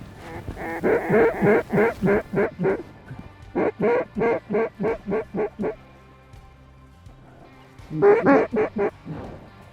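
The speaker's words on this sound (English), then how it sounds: "Ducks are coming this way." Loud, rhythmic quacking from a big flock of mallards during a November duck hunt in South Dakota, in fast runs of repeated calls, with two long bursts, a pause, then another burst, close and clear.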